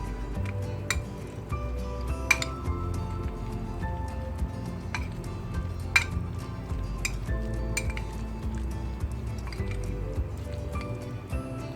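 A spoon works through mashed potato filling with chopped coriander and lemon juice in a bowl. It makes steady, soft squishing with scattered light clinks against the bowl and no voices.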